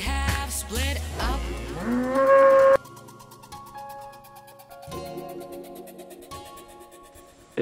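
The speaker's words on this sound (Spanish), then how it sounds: "Estamos aquí entre vacas, que parece que se están cabreando." Cattle moo loudly and close by on a mountain trail near Puerto del Cardoso, Montejo de la Sierra, with one long drawn-out low call followed by quieter bellows further off.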